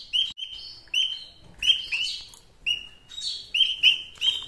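Young nestlings give high, thin chirps in repeated short bursts from a hanging nest, loud and close with brief pauses between calls.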